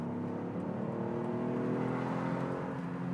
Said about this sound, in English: listen to the blow-off valve and the turbo noises that this vehicle makes